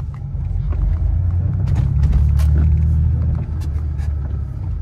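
Low, steady engine rumble from an air-cooled Porsche 911 warming up, fairly close and continuous with a slight swell in the middle, no talk over it.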